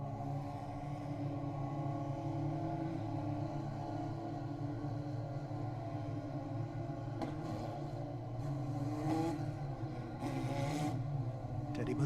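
Formula 4 race cars roll past at Road America on spec tires, a steady low engine drone holding throughout with a faint rise near the end, heard from a distance with no talk.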